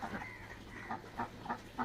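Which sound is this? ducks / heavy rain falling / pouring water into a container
ducks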